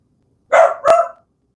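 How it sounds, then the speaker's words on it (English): A dog gives two quick, loud barks close by, back to back, then falls silent. "Hey, can you stop barking?"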